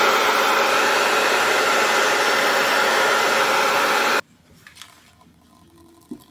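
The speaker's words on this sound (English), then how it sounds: "The settings that I have my blow dryer on is medium like blowing power and like medium heat" A blow dryer runs at medium power and medium heat, a loud steady whooshing roar close by that cuts off abruptly after about four seconds, leaving faint room noise.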